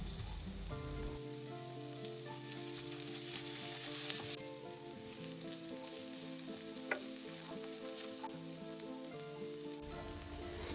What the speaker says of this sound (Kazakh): Май кызган кезде тууралып дайындалган пиязды салып, жумсарганча кууруп алабыз.